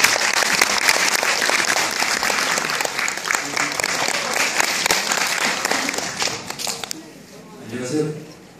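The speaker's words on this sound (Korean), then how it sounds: "큰 박수로 모시겠습니다." Sustained audience applause fills a local event in Yongin as a National Assembly member is welcomed to the podium, dense clapping for about seven seconds before fading, followed by a brief murmur at the end.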